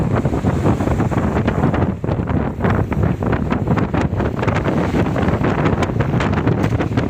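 Strong, steady wind roars and buffets the microphone at sea on a tuna fishing trip, with the rush of waves and sea spray beneath; loud and continuous throughout.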